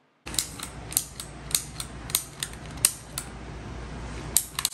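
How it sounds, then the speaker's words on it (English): A Penn State clicker adding machine being worked by hand gives sharp, close mechanical clicks, about eight of them at a fairly even pace, over faint background hiss. "it adds by clicking, and it clears by clicking"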